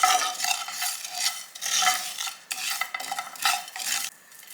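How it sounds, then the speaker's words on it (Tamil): Spices and fenugreek dry-roasting in a pan with no oil, stirred continuously, making a close rustling, scraping rattle in rhythmic sweeps with short pauses between strokes. "இதுவும் எண்ணெய் எதுவுமே போடல ஜஸ்ட்டு ட்ரை ட்ரையாக தான் வறுக்கிறோம்"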